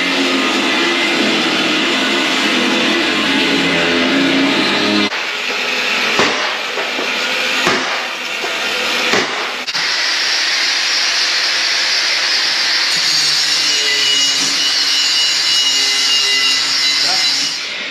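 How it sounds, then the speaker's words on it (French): Sanding a Taxi 2 car spoiler by hand, a continuous close scratchy rasp that pauses briefly with a few knocks before the rubbing resumes steadily. "On prend du on ponce entièrement."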